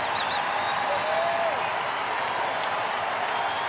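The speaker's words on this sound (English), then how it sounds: "A lot to cheer about in the first inning." A baseball stadium crowd at a Rangers–Giants game cheers and applauds steadily, a broad sustained wash of clapping and roaring that stays even throughout.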